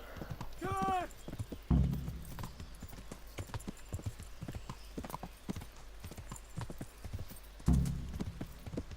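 Steady horse hoofbeats in Kingdom Come: Deliverance clip-clop throughout at a trotting pace, with a horse whinny near the start and low thumps, plus bits of background game sound.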